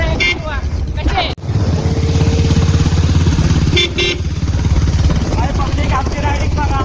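A sport motorcycle rides on a rainy rural road, its engine droning loud and close almost throughout, with a brief cut-out near the start and wind noise, while a voice talks over it.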